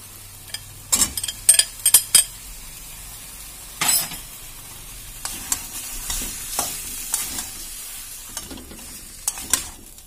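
Marinated chicken with ginger, garlic and green chilli dropped into sizzling masala in a pan: loud clattering splashes and utensil knocks early on, then steady frying with occasional stirring scrapes.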